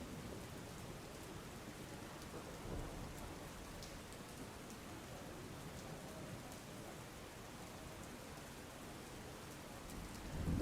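Heavy monsoon rain falls over Godhra in Panchmahal, a steady broadband hiss of rain on surfaces that stays even throughout and swells briefly at the end, with no voices.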